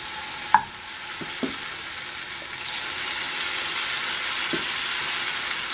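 Potato batter for deruny frying in a hot oiled pan, a steady soft sizzle building slightly over time, with a few brief clanks of a utensil near the start.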